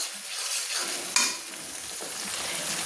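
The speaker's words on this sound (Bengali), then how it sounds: "আমি ভালো করে টমেটোগুলোকে আমি একটু তেলের মধ্যে নেড়ে নিচ্ছি" Tomatoes stirred in hot oil in a cooking pan for a chicken and cabbage curry, giving a steady close sizzle with scraping stirs and one sharp louder scrape partway through.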